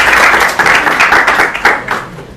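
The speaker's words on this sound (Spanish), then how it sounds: "un fuerte aplauso para ella" An audience applauds a speaker arriving at a talk on the TPP11 trade agreement in Chile, a loud, dense burst of clapping from a crowd that continues steadily for a couple of seconds.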